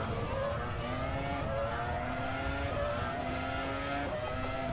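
Race car engine in the sim racing game rFactor2, driven in VR, a loud continuous whine with shifting harmonic pitch as it accelerates and changes gear, no voices over it.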